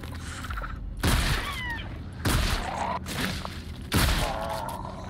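Heavy gunfire from the horror video game Scorn comes as three loud booming bursts spaced about a second apart. A dense, rumbling game soundscape continues underneath.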